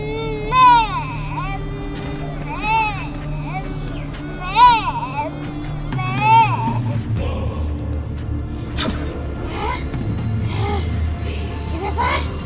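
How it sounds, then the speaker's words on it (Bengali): An infant cries in repeated rising wails separated by short pauses, close and loud, with voices and other sounds mixed in toward the end. "বাচ্চার কান্নার আওয়াজ।"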